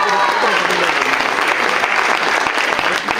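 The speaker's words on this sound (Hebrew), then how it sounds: "עוד פעם מחיאות כפיים" Audience applause at an indoor performance, steady dense clapping from many hands that carries on throughout.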